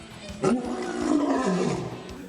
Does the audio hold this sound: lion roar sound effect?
yes